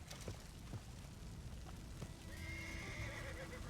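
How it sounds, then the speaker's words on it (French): A horse in Red Dead Redemption 2 whinnies and snorts while its hooves clip-clop, a faint close neigh rising partway through over quiet ambient noise. "Il faut que je calme mon cheval."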